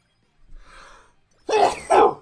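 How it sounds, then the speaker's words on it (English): A single sneeze, close and loud: a faint breathy build-up, then a sharp two-part burst at the end. "Oh god, I gotta sneeze."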